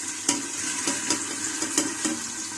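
Onions sautéing in melted butter and oil for a Turkish black cabbage soup, a steady close sizzle with several sharp stirring scrapes spaced through it.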